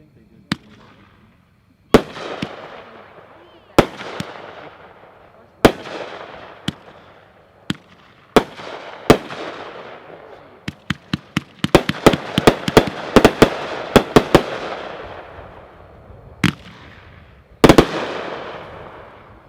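Warning, Avalanche Ahead, a 26-shot fireworks cake by Cutting Edge, fires sharp reports spaced a second or two apart, then bunches into a rapid crackling flurry before a few final bangs, each shot trailing a bright decay.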